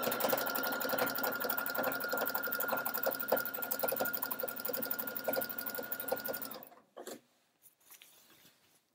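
A sewing machine runs steadily through layered sweater knit and ribbing, a close, continuous whir with a rapid stitching pulse for about six and a half seconds before stopping, followed by brief handling noises.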